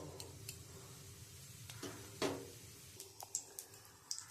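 Panch phoron five-spice seeds hitting hot oil in a wok, quiet crackling and sputtering with a few sharp pops and faint stirring clinks.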